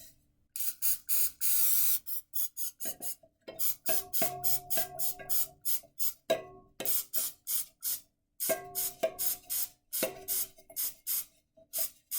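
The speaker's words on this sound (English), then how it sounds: "we're just going to spray it down with Pam cooking spray" Repeated short bursts of Pam aerosol cooking spray hissing into a pan, several sprays in a row with brief pauses, close and fairly loud.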